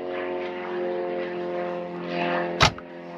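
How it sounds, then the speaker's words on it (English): A propeller plane drones steadily overhead for the full stretch, a continuous low engine hum with layered harmonics, joined briefly near the end by a sharp nearby knock; no one speaks. "prop plane flying over,"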